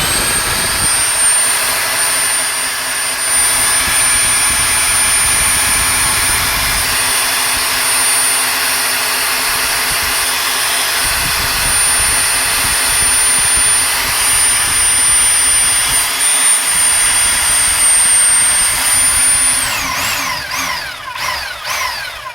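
A scissor lift lowers a 2009 V6 Mustang in a home garage, giving off a loud, steady mechanical whine and hum that holds for about twenty seconds and then winds down at the end, with no voices.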